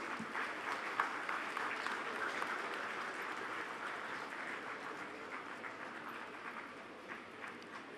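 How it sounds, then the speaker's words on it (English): Sustained applause at a business school convocation ceremony, a large audience clapping steadily for graduating students, a dense even wash of hands that eases slightly near the end. "Can we have a round of applause?"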